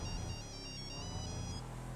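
Mobile phone ringtone in the video game GTA, a steady electronic melody with repeating high tones that plays continuously and loudly with no speech.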